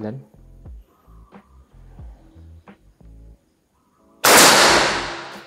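A single loud, sharp shot from a Monel Phantom PCP air rifle bursts out near the end, following a stretch of talking.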